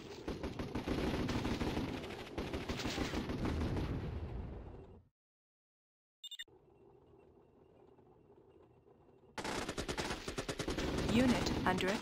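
Dense machine-gun and artillery fire from the strategy game Warzone 2100 rattles loudly on units, broken by a short silence and a quieter stretch before the barrage resumes.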